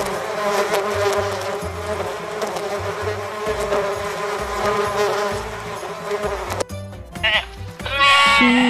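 A steady, close bee buzz drones for several seconds, then breaks off into a short bleating call at the end.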